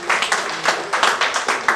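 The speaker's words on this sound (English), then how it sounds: "Can we give them a round of applause?" An audience at the Ibadan Recreation Club claps for the ESCO members, a short burst of rhythmic, fairly close applause that pulses in even waves for under two seconds.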